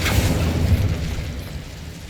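A fire spell cast in a fantasy wizarding game bursts out as a loud whooshing boom with a sharp crackling onset, then a rumbling roar that slowly tails off over about two seconds.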